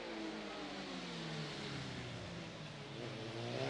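A racing motorcycle engine screams during qualifying at the Macau Grand Prix street circuit, a sustained high-revving whine with shifting pitch that carries steadily for a few seconds, heard at a moderate distance.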